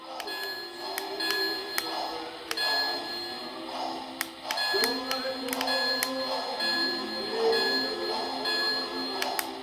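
A bright bell on a Lionel toy train set rings repeatedly in quick metallic strikes over a steady mechanical hum, with a rising tone gliding in partway through.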